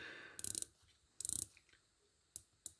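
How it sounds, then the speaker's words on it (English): A 120-click unidirectional dive watch bezel on a Heimdallr Shark Submariner, slightly stiff with little back play, is turned in two quick bursts of rapid ratcheting clicks, then two single clicks, close and crisp against silence. "it is a 120 click unidirectional bezel. Very little back play. It's a little on the stiff side"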